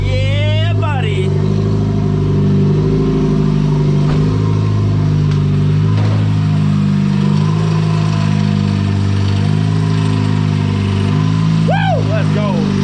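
A VW Golf 3 with a swapped-in 1.8T turbo engine revs loudly and continuously right nearby, its deep droning exhaust rising and falling, with excited voices cheering over it.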